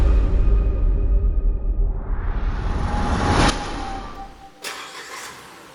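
A 2022 BAIC BJ40L off-road SUV with a 2000cc petrol engine during a test drive, its engine droning loudly and steadily, then easing off and fading, with a brief swoosh near the end.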